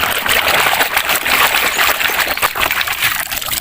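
Water splashing and trickling while toy vehicles such as trucks and buses are washed, a loud, continuous close-up wash with uneven splatters throughout.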